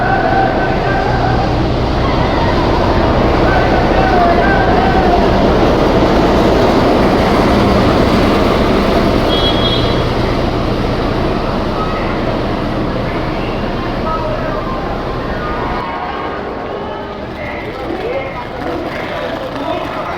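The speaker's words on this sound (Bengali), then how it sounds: "এইমাত্র ট্রেন প্লেস করা হচ্ছে ন নম্বর প্ল্যাটফর্মে লেজেন্ডারি হাওড়ার ডব্লিউডিএস সান্টার লোকোমোটিভ দিয়ে" At Howrah station a WDS shunter locomotive pushes a train into a platform, giving a broad, loud rolling rumble that fades near the end, with crowd chatter all around.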